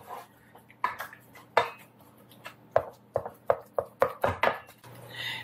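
Hamburger meat for hot dog chili is broken up in a pan with a metal utensil, a fast irregular series of close, sharp clanks and scrapes with short quiet gaps between them.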